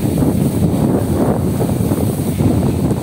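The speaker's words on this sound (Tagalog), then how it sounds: "Malakas ang hangin." Strong wind roars steadily into the microphone on a fiberglass boat, a loud continuous buffeting rush with no break, and water may be faintly underneath.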